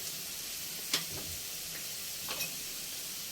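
Potatoes with turmeric and salt in a pan give off a soft, steady sizzle after water is added, broken by a few light scraping stirs.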